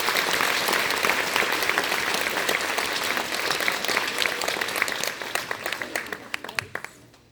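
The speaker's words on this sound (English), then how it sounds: "Big round of applause for those three students" A school concert crowd claps loudly for three students, a thick wash of applause that thins toward the end into scattered individual claps before fading out.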